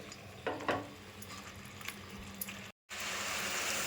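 Chicken pieces fry in a pan for a home-style gravy, with a soft sizzle, occasional stirring clatter and a brief dropout, after which a steadier frying hiss returns.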